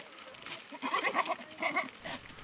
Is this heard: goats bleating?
yes